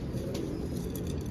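Pigeons coo in a loft, low soft throaty murmurs repeating close by under a steady background hum, with faint higher chirps overhead.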